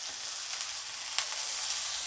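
Brinjal slices frying on a hot tawa give a steady, soft sizzle of spitting oil with a faint crackle, continuous and close, no speech.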